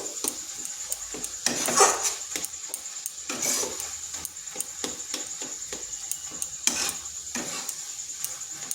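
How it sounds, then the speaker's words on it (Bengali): Grated carrot laddu mixture being stirred and dried in a pan, repeated close spatula scrapes and metal clinks against the pan over a faint sizzle, with several louder rasping strokes; no voices. "এটাকে আর মিনিট 2 পর্যন্ত এইরকম নেড়ে নেড়ে আর একটু শুকনো করে নেব।"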